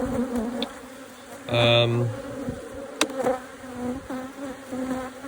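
Honeybees buzz around hive frames while a micro nuc is set up, a close, steady hum with scattered louder passes and a few knocks and clicks from handling the frames.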